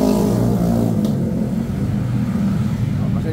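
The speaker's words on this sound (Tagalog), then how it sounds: "Pasensya na, maingay yung mga muffler." Several cars with loud mufflers rumble and rev steadily nearby at an automotive shop, a low throaty drone with a brief higher whine partway through.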